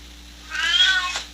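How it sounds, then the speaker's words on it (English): A cat gives a single clear, drawn-out meow, close to the mic and fairly loud, against a quiet indoor background with no talking. "Oh, it's a cat."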